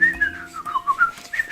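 Close, lively whistling in a story scene, a run of sliding, bouncing notes that rise and fall in quick succession like a cheerful tune, heard alone with no talk.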